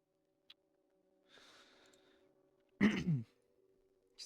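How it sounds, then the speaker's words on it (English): A person clears their throat once in a quiet room, a short harsh rasp after a faint breath, with a low steady hum behind it. "Sorry for coughing."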